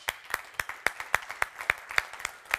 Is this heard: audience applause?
yes